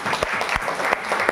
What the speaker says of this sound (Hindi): ताली बजा सकते हैं यीशु के लिए।